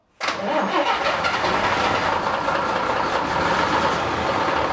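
An old Ikarus 260 bus diesel engine cranks and catches abruptly after a moment of silence, then settles into a loud, rough, rumbling idle nearby.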